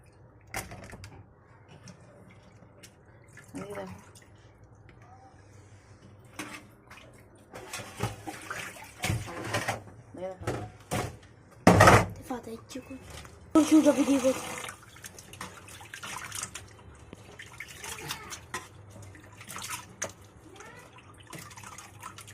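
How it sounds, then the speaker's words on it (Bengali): Shrimp are rubbed and rinsed with turmeric and salt in a bowl of water, giving intermittent close splashes, sloshing and light clinks with quiet gaps between. "এখন আমি ভালো করে একটু হলুদ দিয়ে, লবণ দিয়ে ভালো করে চিংড়ি মাছগুলো ধুয়ে ধুয়ে পরিষ্কার করে ফেলতেছি"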